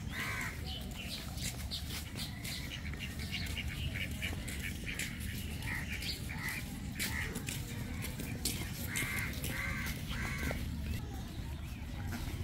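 Ducks on open water beside a rural waterway quack in scattered, repeated calls at moderate distance, mixed with other bird calls over a soft outdoor background.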